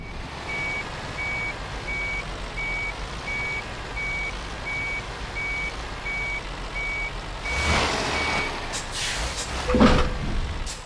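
A truck in Euro Truck Simulator 2 reverses with evenly spaced high beeps over a low engine rumble. Near the end comes a burst of air-brake hiss and some clunks.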